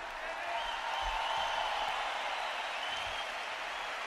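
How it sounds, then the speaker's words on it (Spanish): Stadium crowd at a concert in San Mamés, Bilbao, applauding band members; a broad, steady wash of distant clapping and cheering fills the whole stretch without a break. "Aplauso enorme para Paco."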